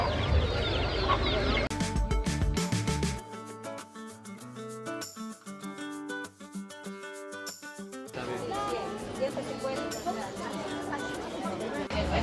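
Roosters held by vendors at a large indigenous market in Central America cluck and call amid busy crowd chatter, with people talking nearby and a stretch of sustained tonal sound in the middle.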